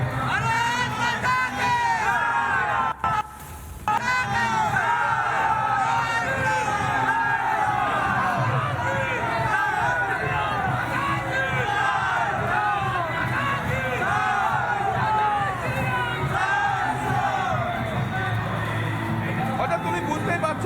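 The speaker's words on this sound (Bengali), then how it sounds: "তারা সকলে মিলে জয় শ্রীরাম স্লোগান যেমন দিচ্ছে, একই সঙ্গে প্রধানমন্ত্রী নরেন্দ্র মোদীজির নামে তারা কিন্তু স্লোগান দিচ্ছে" A large crowd of BJP supporters chants Jai Shri Ram and Modi slogans at a Prime Minister's rally on the Rasmela ground in Coochbehar, a loud, dense mass of yelling and cheering voices that continues almost without a break.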